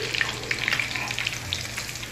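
Potato and egg kababs fry gently in a pan over very low heat, giving a close, steady soft sizzle with small crackling pops throughout.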